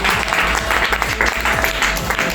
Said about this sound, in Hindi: तो इसके लिए जोरदार तालियां हो जाती।